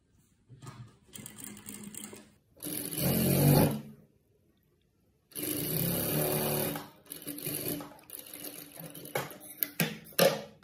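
A sewing machine edge-stitching the placket of a saree blouse on its left-hand lining runs in several separate close bursts, some short and some sustained, with quiet gaps between them and no talk.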